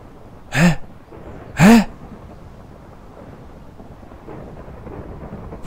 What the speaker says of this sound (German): Was war das für eine Explosion?